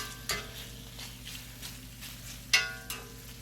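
Bacon fries in a pan with a faint, steady background sizzle, broken by a few soft clinks and pops, without any talking.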